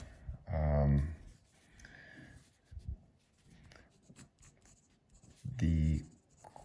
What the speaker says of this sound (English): Let me do a quick writing test.